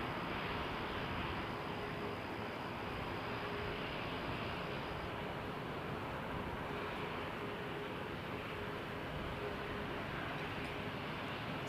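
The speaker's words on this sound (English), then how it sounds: "737 MAX 8 going all the way across the Atlantic." At Toronto Pearson, a WestJet Boeing 737 MAX 8 departs for Dublin with a continuous, fairly faint broadband engine roar and a thin high whine, steady throughout with no talk.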